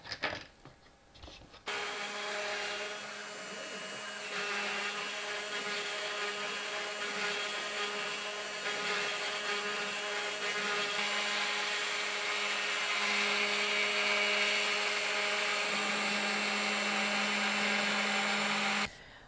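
A CNC router cuts a plywood board with a steady, loud whine and a constant high machining hiss. It runs unbroken for about seventeen seconds after a brief start and then cuts off suddenly.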